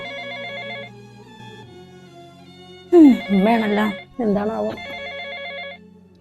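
A telephone rings with a repeating electronic ringtone pattern throughout, steady and fairly loud, while a voice speaks over it in the middle of the ring in a Malayalam family skit scene.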